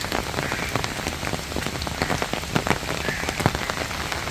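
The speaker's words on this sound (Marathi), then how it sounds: "आपण पाहतोय की हा पाऊस कालपासून बरसतो आहे" Heavy rain pours onto an empty garden in Solapur, a dense continuous patter with sharp individual drops splashing close by over a steady hiss, with no voices.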